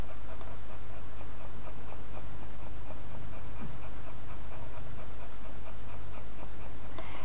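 Colored pencils drawing a lion on paper, a close, continuous scratchy rasp of quick strokes with no speech.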